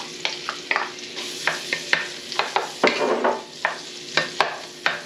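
Onions sizzling in a preheated Dutch oven, with a crackling fry broken by repeated sharp scrapes and stirring knocks of a utensil against the pot, close and fairly loud.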